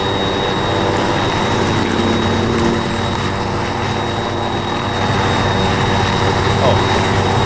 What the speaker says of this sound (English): Let's go to that helicopter.